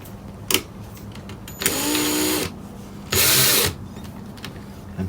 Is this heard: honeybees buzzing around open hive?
no